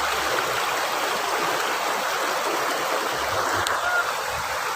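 Cold river water streaming steadily from its source, a broad continuous rushing wash close by with no break or pause, heard alone without voices.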